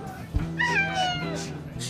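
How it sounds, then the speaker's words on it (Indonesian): A cat meows close by with a couple of drawn-out, wavering cries. A person's voice is also present around the meows. "Kucing siapa nih?"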